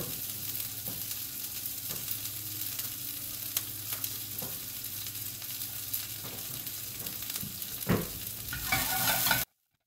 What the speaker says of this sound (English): So first things first, let's cook off a little bit of some broccoli.